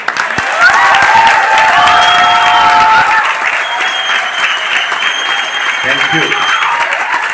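A business audience breaks into loud, sustained applause that rolls on for several seconds and then gradually thins, with a brief spoken thanks near the end.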